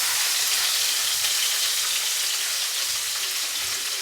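Barramundi cooking in a pan, a continuous close sizzle and crackle of frying oil that stays even and steady, with no voices over it.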